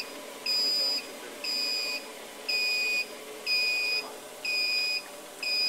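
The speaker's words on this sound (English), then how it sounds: "It's going to start beeping as soon as I..." A Farret 40 battery load tester beeps in a steady series of six evenly spaced, sharp electronic tones, each lasting about half a second, loud and close, with no talking.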